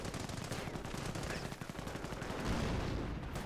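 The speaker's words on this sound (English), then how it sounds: "30 cal firing away against the Knights crossholders." .30 cal machine gun fire in Company of Heroes 1 rattles in rapid, unbroken bursts amid a steady din of battlefield shooting, loud and close with no pause.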